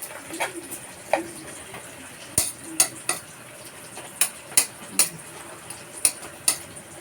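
Kangkong (water spinach) sautéing in a pan, with sharp metal utensil clinks and scrapes landing in irregular bursts over a soft steady sizzle, close and fairly loud.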